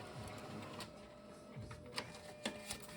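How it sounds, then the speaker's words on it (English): A home printer runs through a PDF sewing pattern, a faint mechanical whir with a few soft clicks and knocks near the end, no talking. "go ahead and print out the entire pattern"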